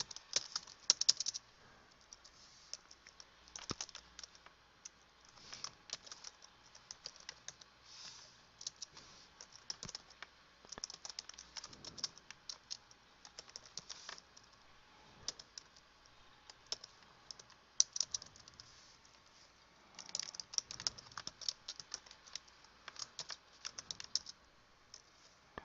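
Someone types steadily on a computer keyboard for about twenty-five seconds, producing rapid, faint clicking keystrokes in irregular bursts with no talking.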